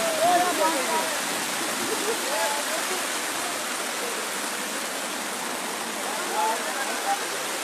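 A heavy evening downpour during an outdoor protest makes a loud, even rushing hiss of rain hitting the ground, with faint voices mixed into the steady roar.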